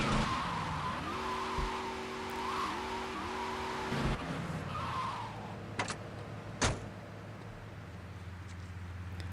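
A souped-up taxi in GTA Vice City drives with a buzzing, revving engine that rises and dips, then its tires skid, followed by a couple of sharp knocks and a steady low idle.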